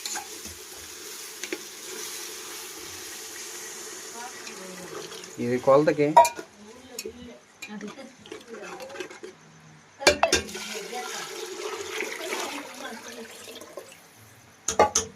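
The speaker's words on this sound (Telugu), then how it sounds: "మన మిశ్రమం అంతా బాగా అడుగంటేస్తుంది కాబట్టి ఇంకేం చేద్దామంటే వాటర్ పోసేద్దాం." Water poured into a pan of simmering chicken curry on a home stove, bursts of splashing and sizzling against quiet kitchen background, with a brief spoken comment in between.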